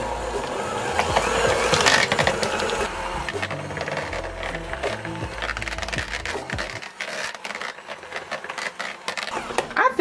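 An electric mixer or blender whirs through softened room-temperature cream cheese for a cheesecake, a loud continuous mechanical churning and scraping that runs throughout, close up and without speech.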